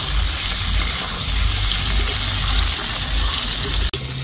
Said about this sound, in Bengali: তেলের মধ্যে দিয়ে দিব ঝিঙাগুলো। ঝিঙাটাকে আমি হালকা করে ভেজে নিব।